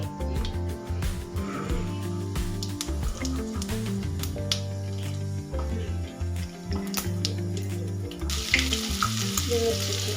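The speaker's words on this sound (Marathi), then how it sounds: "कडकडीत तेल गरम झालेलं आहे त्याच्यामध्ये घालून घ्यायची मोहरी" Mustard seeds and cumin sizzle in very hot oil for a spring onion greens dish, a steady frying hiss with a brighter burst near the end, heard under continuous tonal background music.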